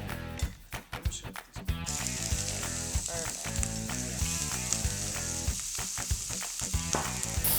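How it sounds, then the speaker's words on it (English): Shrimp fry in canola oil in a pan, with a loud, steady sizzle and crackle that runs almost the whole time after a few sharp taps and clatters at the start. "So now we're gonna cook the shrimp, the last part of the dish. Put a little bit of canola oil down."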